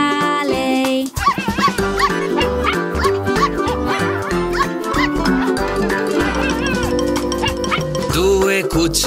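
A sung voice imitates a mother dog's barking, repeating 'woof' several times in an Italian children's nursery rhyme about five little puppies, set over a loud, busy musical backing.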